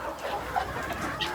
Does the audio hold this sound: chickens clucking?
yes